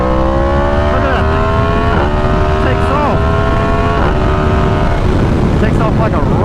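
A 1000cc super naked motorcycle accelerates hard, its engine note climbing through repeated rising pitch sweeps with each gear change, loud and close over strong wind noise.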